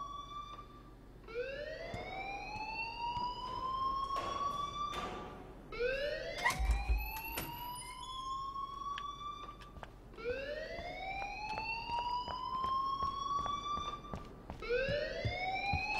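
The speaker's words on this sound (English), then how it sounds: "please turn off that alarm" An alarm blares in the video game Life Is Strange, a repeating rising wail like a siren that sweeps upward every few seconds, steady and continuous with no voices.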